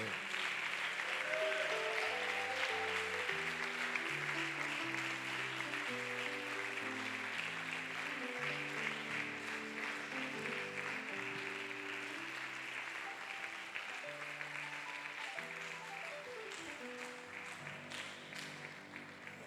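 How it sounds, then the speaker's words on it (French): A church congregation applauds steadily for the full stretch, the clapping blending with instrumental music that plays alongside it. "On peut acclamer le Seigneur."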